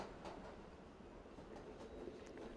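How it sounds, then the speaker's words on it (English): A train from the Roblox game Jailbreak rolls past with a steady rumbling wash of rail noise and faint clatter, continuous and moderately distant throughout. "Me saying bye to a train because it's heading to the ocean."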